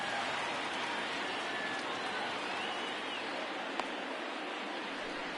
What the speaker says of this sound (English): we've mentioned the conditions aren't ideal with the rain coming down